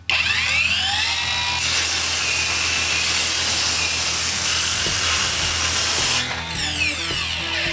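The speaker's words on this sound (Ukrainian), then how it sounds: "встановив брус 100 на 100 і перевіримо зразу, яку максималку бере ця пилка" A GRAND cordless circular saw bites through a 100x100 timber beam, its motor whining up, then holding a loud, harsh cutting roar for several seconds before spinning back down alone.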